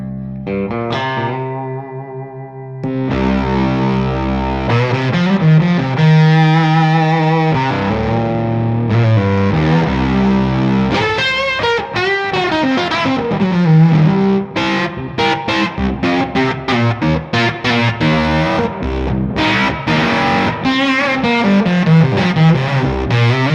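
Electric guitar through a Fox Tone Machine fuzz pedal with a clean blend circuit, thick fuzzy distorted tone playing chords and single-note lines continuously, loud and sustained, with some echo and no voices.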